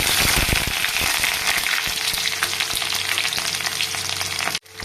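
Onions tipped into hot oil already seasoned with pepper, nutmeg, cardamom and cinnamon sizzle loudly and steadily in a home kitchen, with stirring scrapes over the continuous frying hiss and a brief drop near the end.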